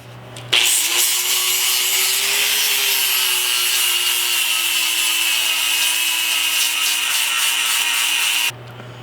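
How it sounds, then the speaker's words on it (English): Flap disc grinder smoothing welds on spring perch reinforcements for a 1964 Impala, a steady loud high-pitched whine with abrasive rasping that runs unbroken for about eight seconds, starting and stopping abruptly, with no talk. "flap disc. Works pretty well for smoothing out welds."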